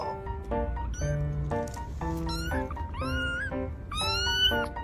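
A cat that has wandered in through an open door meows repeatedly and loudly at close range, giving a string of rising and falling cries with short pauses between them.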